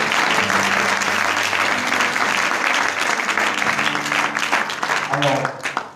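Loud, sustained applause from a church congregation celebrating the naming of Pastor Jean-Pierre Ndour as superintendent of the United Methodist Church in Senegal, a dense wash of clapping that continues throughout with voices mixed in.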